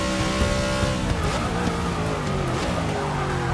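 A NASCAR stock car in Forza 6 locking its tires under heavy braking into a corner, a sustained engine drone with falling pitch under a faint tire squeal, close and continuous.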